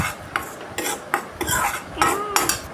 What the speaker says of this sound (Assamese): এনেদৰে প্ৰায় 10 মিনিট সময় মই ঘিৰে ভাজি ল'ম।